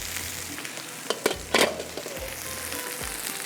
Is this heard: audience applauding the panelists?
no